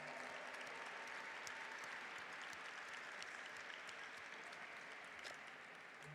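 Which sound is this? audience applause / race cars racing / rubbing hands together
audience applause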